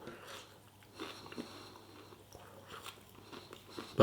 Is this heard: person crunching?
yes